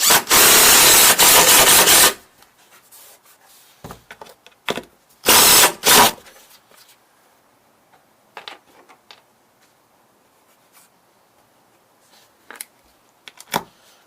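Lag screws being power-driven into a plastic kids' playground slide, two loud bursts of driver whir, one about two seconds long and a shorter one later, separated by quieter handling clicks and taps.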